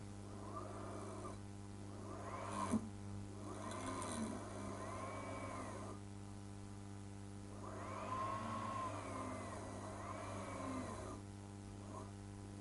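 Two brushless motors wired to a single ESC whir steadily with a layered tonal hum, one slowed by hand with a brush, so the pitch sags and rises in several surges over about twelve seconds.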